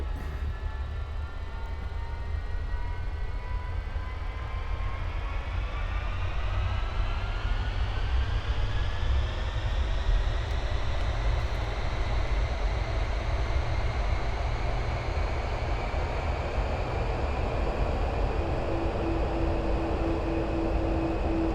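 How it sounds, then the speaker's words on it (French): An Avro Vulcan MK2 bomber's jet engines spool up for takeoff in a flight simulator, a loud continuous roar with rising whining tones that climb steadily in pitch as power builds. "C'est parti pour le décollage."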